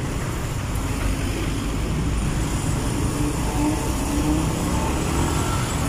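Heavy road traffic on EDSA in Manila heard from inside a car, a dense, continuous rumble of many engines, buses and trucks with no break.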